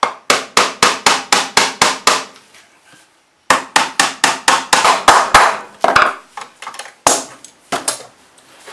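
Sharp, loud taps knock a glued, clamped wheel-profile part into place on a homemade model tank, coming in steady rapid runs with a brief pause midway and sparser knocks at the end.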